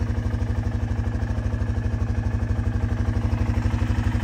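A four-wheeler ATV engine idles steadily in thick bush, a close, even mechanical putter with a rapid regular pulse that holds without revving.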